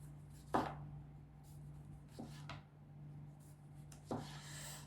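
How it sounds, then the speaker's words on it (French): A kitchen knife slices a tomato into thin rounds for a vegetable tart, giving three short, soft cuts spaced a few seconds apart over a steady low hum, with no talk. "Alors là, mon couteau coupe très bien."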